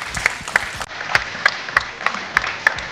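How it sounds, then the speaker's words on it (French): A small group at a water-saving award ceremony in Montpellier claps in sparse, uneven beats, with a few distinct sharp claps standing out over a light wash of applause. "Applaudissez-vous vous-même."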